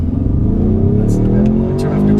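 A 2015 Ford Mustang EcoBoost with an automatic transmission launches hard, its engine note climbing steadily and loudly up close, with brief hissy bursts over the rising drone.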